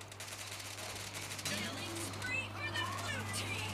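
Rapid automatic gunfire from the game PUBG Lite rattles in a steady stream of close shots throughout, with a voice talking over it.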